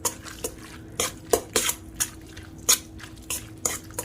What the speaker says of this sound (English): And then kind of mix this a little bit just so I can get an idea of the mayo.